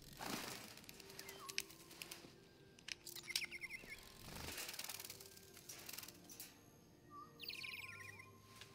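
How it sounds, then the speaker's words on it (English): Fake bird chirping in the Detroit: Become Human video game, short bright tweets and trills recurring near and clear over a quiet interior hum, with occasional thuds and clicks. "Wait, there's a bird?"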